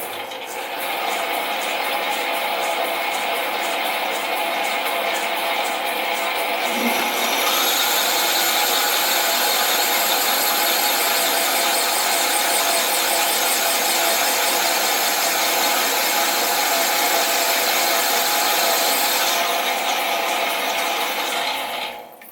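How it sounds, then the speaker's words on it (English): Machine reaming a cast flywheel for a Stuart half beam model steam engine at about 300 rpm, a close continuous motor hum with fine metallic chatter running steadily throughout. "So I'll ream at a speed of around 300."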